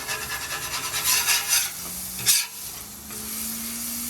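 Burger patty frying on a Blackstone griddle, a steady close sizzle with scraping and rubbing from a spatula, brief louder crackles, no talking.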